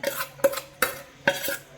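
A spoon stirs tempered food in a metal pot, making four or five sharp scraping clinks at a steady rhythm, close and clear with no voices.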